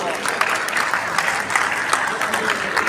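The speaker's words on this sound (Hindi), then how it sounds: "जोरदार तालियां दोस्तों" Audience applause at an award ceremony honouring a Param Vir Chakra recipient, a dense steady wash of clapping that holds evenly for the full stretch without pause.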